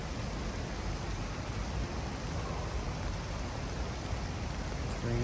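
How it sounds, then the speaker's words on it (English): Steady rain pours down in the woods around a hunting tree stand, a dense, even hiss of drops hitting leaves and surfaces, close and continuous without a break. "Raining pretty good."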